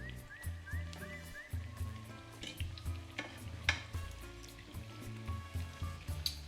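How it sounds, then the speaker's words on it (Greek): Spinach piroshki fry in plenty of oil in a pan, sizzling steadily up close with light stirring and turning knocks. "Γυρνάμε τα πυροσκή μας."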